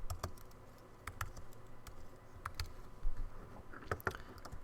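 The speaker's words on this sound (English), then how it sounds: "Command click, command copy, command click, command paste." Keyboard shortcuts tapped out on a computer keyboard, sparse quiet key clicks in irregular bursts with a small cluster near the end, alone over a faint room hum.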